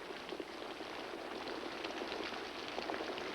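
Steady rain falling outdoors in a colorized 1950s sitcom scene, a soft, even hiss with faint scattered patter and no voices.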